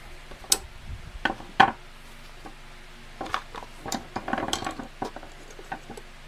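Three bonsai knob cutters are laid down one after another on a surface, giving scattered sharp metallic clicks and clanks at close range, with quiet gaps between them.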